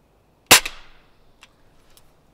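A single sharp crack from a B3 .177 air rifle, loud and close, with a short decaying tail and a couple of faint clicks afterward.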